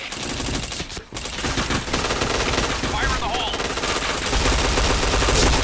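Rapid automatic gunfire from a first-person shooter video game, dense and continuous bursts filling the clip with only a brief pause near the start, with faint voice activity mixed underneath.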